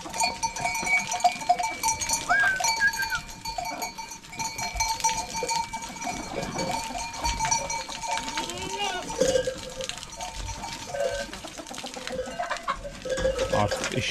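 A white chicken clucks and squawks among other farmyard birds in a snowy village, with someone talking loudly in Turkish over the scene outdoors.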